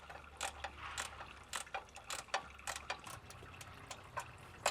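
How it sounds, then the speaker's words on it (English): A ratchet clicking in quick bursts while removing bracket bolts under a Nissan 350Z or Infiniti G35 during a supercharger install, sharp metallic ticks close up over a faint low hum, with pauses between runs. "I'm going to go underneath, remove those two bolts, and get rid of this bracket"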